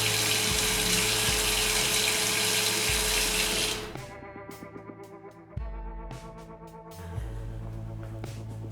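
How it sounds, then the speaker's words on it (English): Chocolate orange cake batter pours from jugs into greased cake tins in a steady liquid stream that then eases into shorter, softer pours, over a faint musical background. "I've got my cake batter into jugs because it makes it a lot easier to pour, and now I'm going to distribute it really evenly between."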